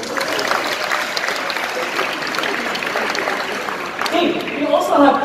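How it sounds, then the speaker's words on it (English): Audience applause after a presentation on smartphone AI features, with steady dense clapping throughout and a brief burst near the end. "Can I get a round of applause?"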